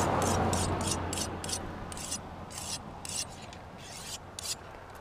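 A sharpener rasps steadily along the edge of a sword blade, close and continuous, with short rhythmic bursts of grinding strokes that swell and fade over a few seconds.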